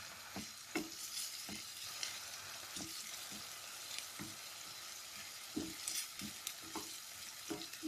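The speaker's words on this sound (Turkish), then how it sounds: "İki tane orta boy soğan doğradım. Bol yağda kavuruyorum." Two medium onions sizzle steadily in plenty of hot oil, with occasional scrapes and stirs of a utensil punctuating the constant frying hiss.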